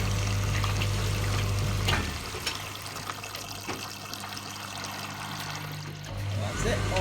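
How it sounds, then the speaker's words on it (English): A Beko DRCS68W tumble dryer pumping out water: a loud motor hum for the first two seconds, then a quieter trickling, gurgling flow of water that continues to the end, with a few faint knocks. "It's pumping out."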